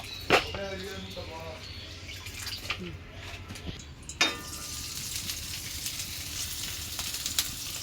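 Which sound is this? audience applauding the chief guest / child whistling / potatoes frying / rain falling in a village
potatoes frying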